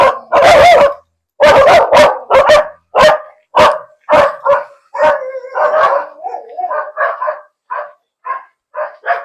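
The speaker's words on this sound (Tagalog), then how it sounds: "Ingay ng mga aso." Several dogs bark in a rapid burst of loud, close yips and woofs, then continue in spaced, shorter barks with a brief howl-like stretch, no talking, in a rural setting in Occidental Mindoro.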